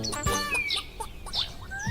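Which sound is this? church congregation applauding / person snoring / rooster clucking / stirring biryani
rooster clucking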